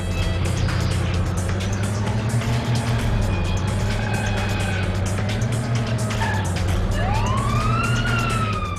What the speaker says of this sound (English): Let's turn on our siren,